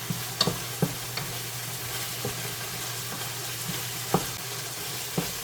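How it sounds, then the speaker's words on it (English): Mushrooms stirred into ground beef, onion and garlic frying in a skillet for stroganoff: a steady low sizzle with several sharp spoon scrapes and taps against the pan, close up and with no talk. "Get those stirred in with the beef and the onion and garlic."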